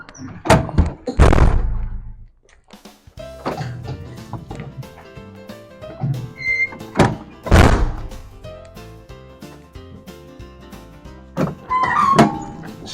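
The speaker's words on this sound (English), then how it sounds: "Let's get these doors shut." Luggage bay doors on a 2014 MCI J4500 coach bus being shut, a few heavy thunks and slams spread across the stretch with rattles and squeaks between them, close and fairly loud, no talk.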